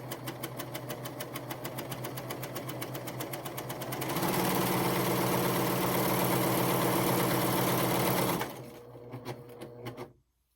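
A PFAFF Admire Air 7000 serger with a gathering foot runs fabric through in a fast, even mechanical whir, picking up speed partway through before slowing and stopping. No one talks over it.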